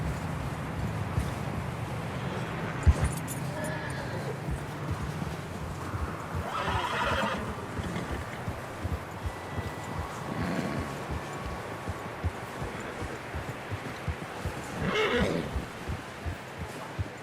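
Horses in the Red Dead Redemption 2 video game whinny several times amid steady clip-clopping hooves, moderately close but fairly quiet, with neighs recurring at intervals over a soft outdoor background.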